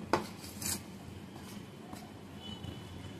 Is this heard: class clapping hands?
no